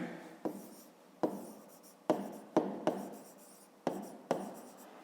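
A pen scratches out a maths solution on paper in a quiet room: a run of short, sharp writing strokes, each fading quickly, with brief pauses between them.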